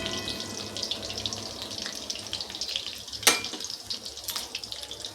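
Taro leaf pakoras coated in rice paste fry in hot oil with a steady soft sizzle and bubbling, punctuated by a couple of sharp crackles and clinks nearby, with no voices.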